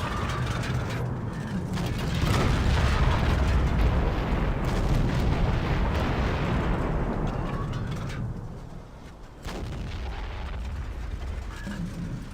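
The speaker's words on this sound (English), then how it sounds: "I do love the sounds of the different artillery pieces." Artillery pieces firing in the WWII strategy game Total War 1942, Hummel guns among them, a continuous heavy rumbling barrage with layered booms and mechanical rattling, loud and dense throughout with a short lull near the end.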